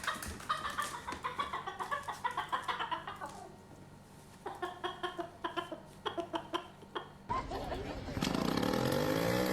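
A rooster clucks in rapid, repeated bursts that pause and then resume, fairly close, and the clucking ends in a louder harsh noise at the end.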